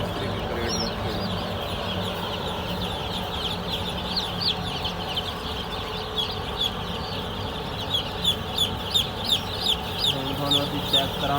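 Day-old broiler chicks packed in crates fill a poultry shed with a constant dense chorus of high peeping, steady and fairly loud throughout, with a few sharper chirps rising toward the end.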